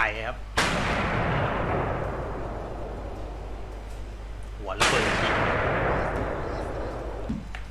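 Two heavy booms from a Russian 2S9 Nona-S 120 mm self-propelled gun, each a sharp blast trailing into a long rumbling roll, several seconds apart and close by.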